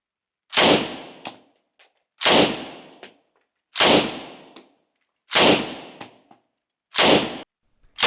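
A restored WW2 Thompson submachine gun being test fired. Five loud, single shots come at a steady pace about a second and a half apart, each followed by a ringing echo that fades into silence.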